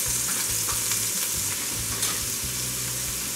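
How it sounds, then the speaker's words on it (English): Frozen chopped onions fry and sizzle steadily in a pan for a red curry soup, a dense close crackle with faint stirring scrapes throughout, and no voices. "And now to this pan, I'm going to add about 1/2 cup of onions."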